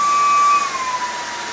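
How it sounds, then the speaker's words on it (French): A Dreame H14 Pro wet-dry vacuum cleaner's suction motor holds a loud steady whine, then shifts and settles lower after about half a second as it adjusts its power. "vous entendez le moteur d'aspiration qui s'adapte automatiquement"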